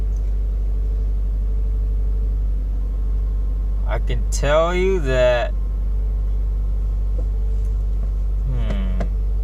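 A 2017 Subaru WRX running a Cobb stage 1 tune idles with a steady low rumble throughout, while someone talks briefly over it.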